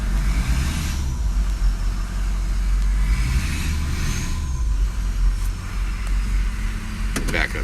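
A car engine with an underboost fault and a cylinder 4 code runs steadily while reversing, a low continuous rumble close by with faint outdoor background.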